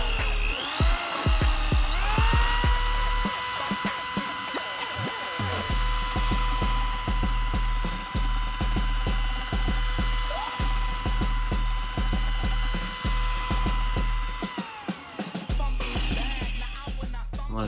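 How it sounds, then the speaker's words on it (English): An electric paint mixer whirs loudly at a steady pitch, starting and stopping several times before running continuously close by, with no talk. "This is an actual paint mixer, so I figure if I run this for a while, it should restore it"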